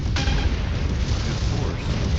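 Missile explosions in the MechWarrior 5 video game: a dense, continuous rumble of booms and blasts with a sharp burst near the start, loud and heavy throughout the battle.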